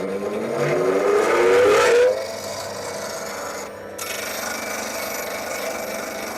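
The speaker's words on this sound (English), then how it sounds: "I might just give this a little tickle on the grinder," A wood-turning parting tool being sharpened on a CBN grinder wheel: a loud, close grinding rasp for about two seconds, then the wheel's steady whirring hum continuing alone.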